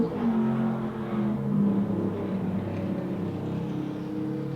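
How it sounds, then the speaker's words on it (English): Loud car driving past a city apartment, a steady low engine roar with throaty rumbling that swells slightly and holds through the moment, heard from indoors without talk. "I just love when people drive really loud cars by my apartment."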